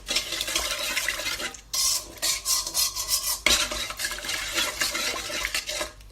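A spoon stirs yeast, sugar and salt in a bowl for pretzel dough, producing steady close scraping and swishing strokes with a brief pause partway through, no voices.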